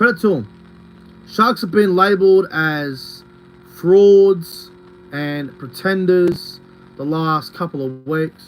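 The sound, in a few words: air conditioner humming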